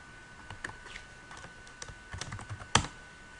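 Keys clatter on a computer keyboard in irregular bursts of typing while a bash script is written, ending in one sharper, louder keystroke, close up with no talk.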